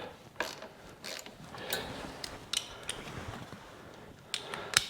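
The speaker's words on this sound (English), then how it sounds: "Crank down on the last bolt you got to get." A hand ratchet cranking down the last bolt on a Tektro hydraulic disc brake on a bike, faint close clicks and creaks in short irregular strokes.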